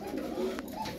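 Turkish tumbler pigeons cooing in a loft, a low continuous throaty coo running through the moment with a few brief flutters or sharper calls, fairly close and heard without speech.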